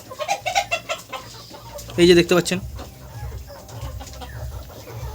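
Desi chickens, including a crested hen and a white rooster, clucking nearby on a farm, with a burst of loud clucking midway while a person talks over it.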